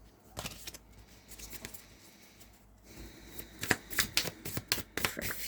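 Tarot cards are shuffled by hand before another card is drawn, giving quiet papery riffles early on, then a pause, then a faster run of crisp flicks and slaps close by, with no talk.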